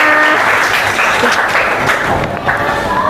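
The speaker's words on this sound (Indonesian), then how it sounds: "Oke, tepuk tangannya." An audience at a school counseling session on bullying applauds, a loud, dense, steady wash of many hands clapping together, close and sustained throughout.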